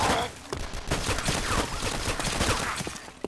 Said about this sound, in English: It's a fucking firefight.